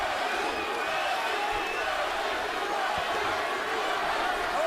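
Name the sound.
boxing crowd chanting Bradley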